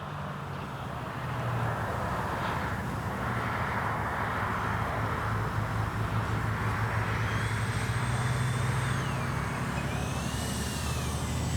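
A Dynam Me 262 RC model jet flies near a runway, a steady broad whooshing hum with a faint high whine that shifts in pitch toward the end, heard alone at moderate distance.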